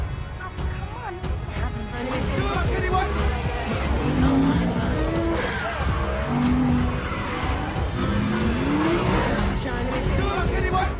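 Cars drifting in a film scene, with loud squealing tires in repeated rising and falling screeches over engine roar and background crowd noise, with a voice talking over the action.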